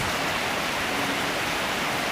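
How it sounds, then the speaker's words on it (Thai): Rain falling steadily during a storm, a dense, even hiss of drops close by, continuous and unbroken with no voices. "วันนี้ฝนตกครับ"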